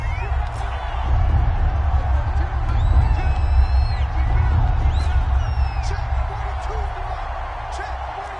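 A stadium crowd in a PS4 football game cheers and roars steadily, swelling slightly in the middle, beneath continuous play-by-play commentary.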